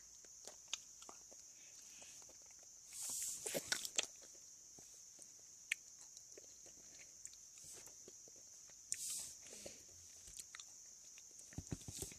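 Someone quietly bites and chews a Japanese snack, producing soft, sporadic crunches and mouth clicks close to the microphone, with a couple of brief louder rustles.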